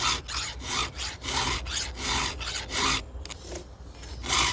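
A hand file scrapes across chainsaw chain teeth during sharpening, with repeated close rasping strokes in a steady back-and-forth rhythm and a short pause near the end.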